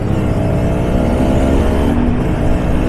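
Kawasaki Ninja RR motorcycle engine idling steadily and close, a continuous buzzing drone with no voices over it.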